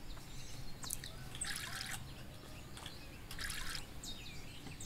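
Plants being watered in the farming video game Everdream Valley: a soft, quiet trickle of water runs steadily with light drips, while bright bird calls chirp in short bursts over the top.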